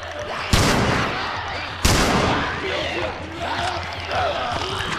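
Two loud, sharp gunshots from the player's gun in The Last of Us ring out about a second apart, each leaving a reverberant tail over a continuous rumbling game background with faint chatter.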